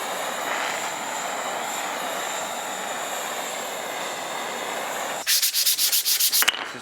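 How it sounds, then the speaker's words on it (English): Steady, continuous rasp of a wooden cutting board being sanded with fine 220 grit, holding evenly for several seconds before breaking into a quick run of short, rhythmic scrubbing strokes near the end. "you sand them back down and they cut off for real instead of just squishing down"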